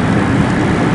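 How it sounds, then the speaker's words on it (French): A low, loud rumble from an airplane passing overhead near Newark airport, filling the whole second with no speech. "C'était un avion que j'avais au-dessus de la tête."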